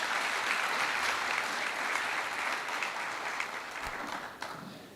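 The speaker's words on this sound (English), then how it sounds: "that deserves a round of applause" An audience at a graduation ceremony breaks into steady, moderately distant applause, broad even clapping that holds for several seconds and tapers slightly near the end.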